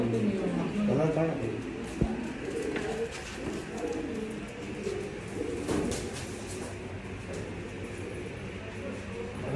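Pigeons cooing softly in a low, steady murmur, with people talking nearby and a single sharp knock early on.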